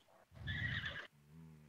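A horse in a video game neighing as it dies, a single loud strained whinny lasting under a second, followed by a quieter low tonal sound.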